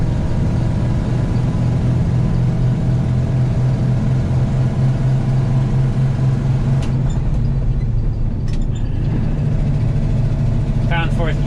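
A grain truck loaded with beans rumbles loudly and steadily on a cold morning, its engine droning low as it accelerates through the gears, with a slight change in pitch partway through and someone talking.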